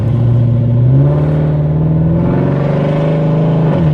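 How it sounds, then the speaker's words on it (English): Modified Chevrolet Camaro exhaust, a loud, deep, throaty rumble held steady close by while the revs rise gently and fall again, with no talking. "Get a little bit of exhaust note up"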